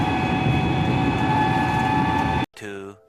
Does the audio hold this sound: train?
yes